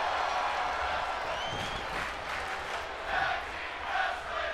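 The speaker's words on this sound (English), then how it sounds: "the crowd chanting tag team wrestling" Crowd at a tag team wrestling event chanting in a dense, roaring mass with rhythmic swells, while a commentator talks over it.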